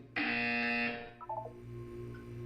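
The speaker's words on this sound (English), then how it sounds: "When you hear the buzzer, look up at the ceiling." A loud electronic buzzer from the Portal 2 video game sounds once as a steady, harsh tone lasting under a second, followed by softer chiming game tones over a low ambient hum.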